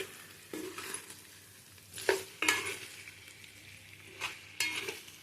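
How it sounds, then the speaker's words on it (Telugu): Masala paste frying on a medium flame for country chicken curry, with quiet sizzling beneath several distinct bursts of spoon scraping and stirring against the pan, close up. "మంటని మీడియం ఫ్లేమ్లో పెట్టుకొని బాగా వేగనివ్వండి."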